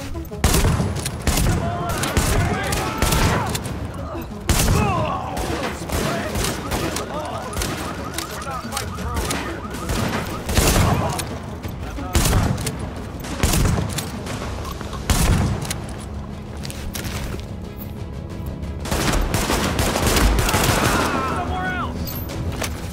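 Loud, dense gunfire from The Division video game, with rapid bursts and repeated volleys running almost continuously and heavy impacts mixed in, under occasional voices.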